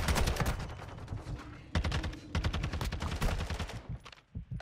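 Automatic weapon fire in a ranked online shooter match, rapid close bursts of rattling shots in quick succession with brief pauses between volleys.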